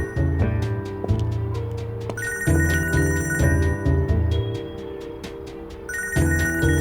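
A telephone rings repeatedly over a soft instrumental score, its bright electronic trill recurring in a steady pattern, up close and without speech.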